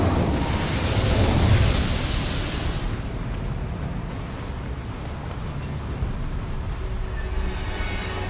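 An Incendio fire spell bursting in Hogwarts Legacy, a loud fiery whoosh and roar that is strongest at the start and then settles into a steady crackling rumble that lasts several seconds.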